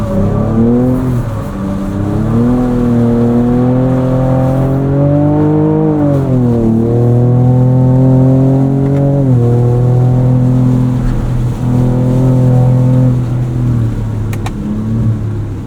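A 2024 Ford Ranger Raptor's engine drones loud and close while drifting on a track, its pitch rising and falling steadily through throttle changes for a sustained stretch.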